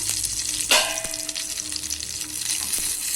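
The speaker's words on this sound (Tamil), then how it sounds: "இந்த பக்கம் ஒரு 10 நிமிஷம் வேக வைப்போம்" Tandoori chicken cooks on a tawa, making a loud, continuous close sizzle with a sharp burst near the start and faint clinks through it.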